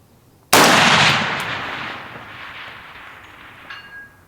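A single loud rifle shot rings out close by with no suppressor on the muzzle, a sharp crack followed by a long decaying boom that rolls across a range set for a 1,000-yard target.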